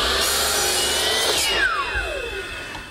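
Hand saw cutting a wood piece set at 23.5 degrees in a miter box, a steady rasping stroke that fades toward the end of the cut; no voices.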